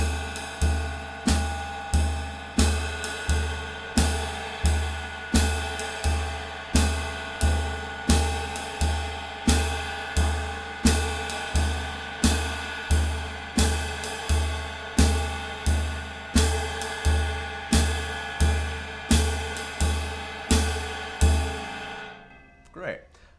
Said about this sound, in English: let's see if we can add it in with hi-hat and 4 on the floor bass drum